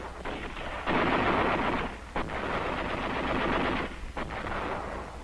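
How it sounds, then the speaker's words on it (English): Machine gun fire in WWII Saipan battle footage crackles in sustained bursts, with a brief lull between volleys, loud and dense with no voices over it. "Principal resistance came from machine gun fire."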